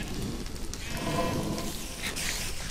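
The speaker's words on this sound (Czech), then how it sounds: "Ještě tam ovce se tady taky plete" A sheep in the Minecraft modpack Hexxit gives a short, fairly faint bleat over a constant rain-like hiss.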